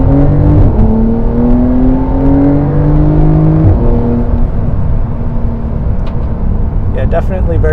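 A Porsche 911 Carrera 4S (992 generation) accelerates, its engine note rising and shifting through gears in a steady, loud drone heard from inside the cabin, with a voice talking over it.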